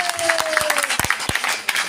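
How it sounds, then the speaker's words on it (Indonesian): Applause from an audience at a Maulid Nabi celebration in a residential complex, scattered clapping with a few sharper claps, heard under crowd noise and a faint tone. "tepuk tangan dulu oleh hadroh"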